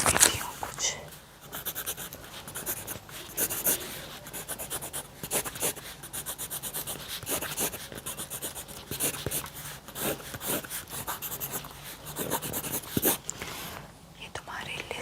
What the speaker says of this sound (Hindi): तो मैं यहाँ पे चीज़ लिख देती हूँ कुछ।